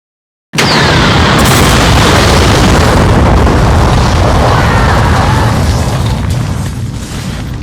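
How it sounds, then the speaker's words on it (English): Huge explosion sound effect blowing up a whole studio, bursting in suddenly after brief silence and roaring on as a loud, sustained rumbling blast that slowly fades. "It will explode the whole studio."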